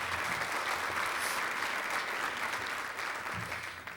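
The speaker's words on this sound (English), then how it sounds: "A round of applause for our sponsors again" An audience at a township address thanks the sponsors with sustained, dense applause, loud and even throughout before easing off slightly at the end.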